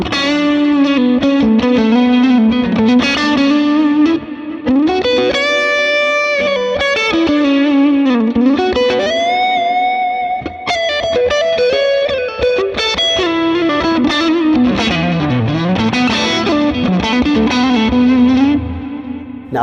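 Electric guitar through an Axe-FX 3 running a Mesa Boogie Lonestar amp patch: a lengthy, loud, distorted lead line with sustained bends, vibrato and fast runs, played alone without talk.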